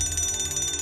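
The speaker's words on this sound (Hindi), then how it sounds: "Fire alarm?" A fire alarm rings inside a building as a steady, loud electronic bell-like tone that keeps going without a break.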